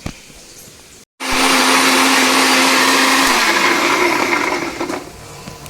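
Kitchen blender whirring loudly as it purées carrots into juice, a sustained steady motor roar that starts abruptly after a brief silence, drops slightly in pitch midway and runs on close and continuous.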